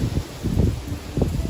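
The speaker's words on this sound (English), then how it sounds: "You can hear the wind." Wind blows through an English-style city garden on a winter day, buffeting the microphone in low, uneven gusts beneath a steady, airy background hiss.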